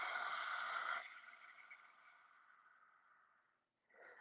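A long breathy yoga exhale through an open mouth with the tongue stuck out, loud at first then trailing off softly, followed by a brief short breath.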